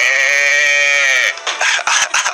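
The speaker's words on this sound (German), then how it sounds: "Maria und Josef betrachteten es froh und auch die Schafe in der Krippe freuten sich." A sheep bleats in one long, wavering, loud cry close by, followed by a choppy, broken run of shorter sounds in a stable or manger setting.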